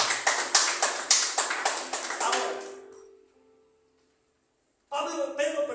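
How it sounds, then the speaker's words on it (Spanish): A church congregation claps in rhythmic, evenly spaced bursts that fade out into near silence, then a new round of sound returns abruptly at the end. "Denle un fuerte aplauso bien bonito al Señor."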